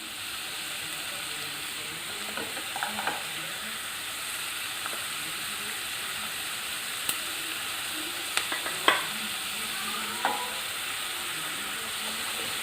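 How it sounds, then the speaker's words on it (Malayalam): Onions sautéing in a pan for Kerala-style chicken mappas, a steady soft sizzle with a few scattered clicks and scrapes of stirring, close and fairly quiet, no talking. "നന്നായിട്ടൊന്ന് ഇളക്കി കൊടുക്കാം. സവാള വഴന്ന് വരുന്നുണ്ട്."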